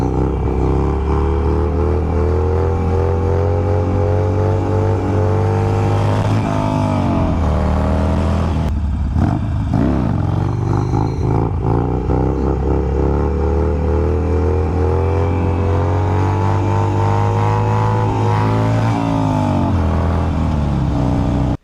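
A Harley-Davidson Sportster with a longer chain and the front fender removed roars loudly on a cold test ride, its engine rising and falling with throttle and shifts, plus steady wind rush.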